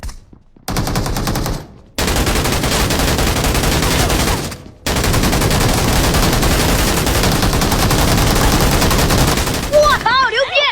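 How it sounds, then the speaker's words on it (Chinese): PKM machine gun in the shooter game Peacekeeper Elite firing long, loud sustained bursts, broken by two brief pauses, with a voice briefly heard right at the end. "不知道我是 PKM 吗？ 只要按住开火键不松手，人都能给你打飞了。"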